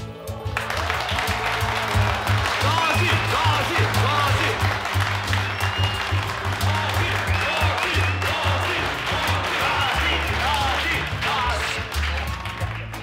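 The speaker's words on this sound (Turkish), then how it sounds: "Tezahüratlar bittiyse ben devam edeyim." An office crowd in a comedy series bursts into applause and cheering, with loud continuous clapping and excited voices layered over a droning background for the whole stretch.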